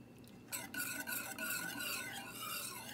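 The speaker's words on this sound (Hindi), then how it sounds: "इसको चूल्हे पर रखने के बाद हम इसको मुसलसल चला रहे हैं" Haleem mix in water being stirred in a pot on the stove, a continuous soft scraping and swishing of a spoon against the pot, faint and close, with no talking.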